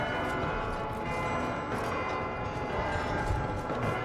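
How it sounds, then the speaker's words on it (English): Loud bells ringing in The Outer Worlds 2 near an observatory in Golden Ridge, a dense, sustained metallic clangour with overlapping tolls filling the space at high volume. "those bells are loud"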